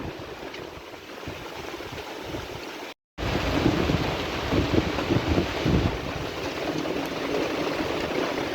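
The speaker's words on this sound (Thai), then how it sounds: "ทั้งฝนทั้งลม" Heavy rain and gusting wind sweep across rice fields during harvest, a loud steady rushing roar with deep low rumbles, cut by a brief dropout before surging back even stronger; no thunder stands out.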